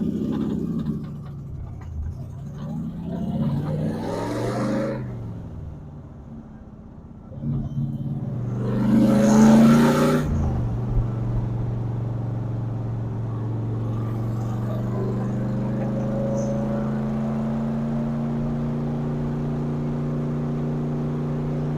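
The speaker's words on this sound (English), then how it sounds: "The car drove awesome, and it was really kind of nice driving it" A Chevrolet C3 Corvette drives by: engine rumble swells, fades, then a loud pass around the middle, followed by a steady low idle hum that holds to the end.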